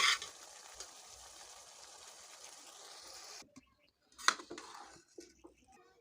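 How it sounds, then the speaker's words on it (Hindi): Eggs and rice frying together for biryani give a hissing sizzle for about three seconds. It cuts off abruptly, and after the gap come a few clinks and scrapes of a utensil against the pan. "इसको अच्छे तरीके से हमने अंडों को फ्राई करना है"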